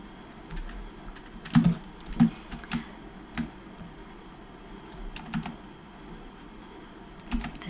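Clicky clacks of a computer keyboard come in scattered bursts of close, crisp keystrokes, with quiet pauses between short runs of typing.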